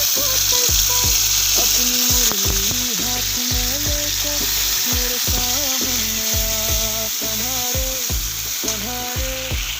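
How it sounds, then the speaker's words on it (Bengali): Ginger, cumin and dried chilli paste frying in hot oil, a loud steady sizzle close by with repeated scraping stirs of a spatula against the pan throughout. "এখন আদা, জিরে আর শুকনো লঙ্কা বাটাটা দিয়ে দেব।"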